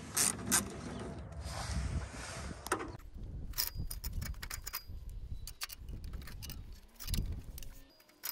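Metallic clanks, scrapes and rattling as a turbo is lowered out of an Audi S3, irregular close knocks and jangles of metal parts in a workshop, fairly quiet with no talk.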